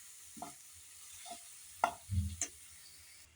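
A ground laddu mixture is stirred and roasted in a pan, giving quiet scraping strokes at irregular intervals and a soft low thump, faint against a hushed background.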